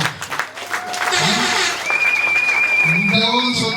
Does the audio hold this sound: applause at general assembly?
yes